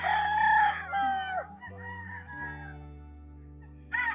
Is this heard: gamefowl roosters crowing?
yes